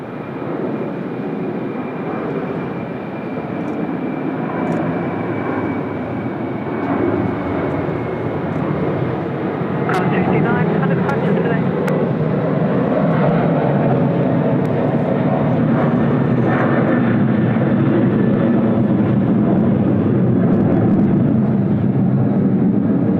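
A Jetstar airliner landing at Sydney Airport gives a loud, sustained jet engine roar that holds steady and swells slightly over about twenty seconds, heard alone without talk.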